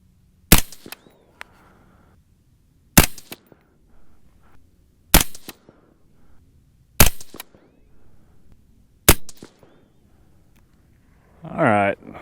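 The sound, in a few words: rifle shots from a Uintah Precision UPR15 .223 Rem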